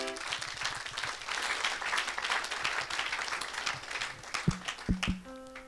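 A crowd applauds and cheers during an evangelistic mission service, a steady wash of clapping through most of the moment, with a voice breaking in briefly near the end.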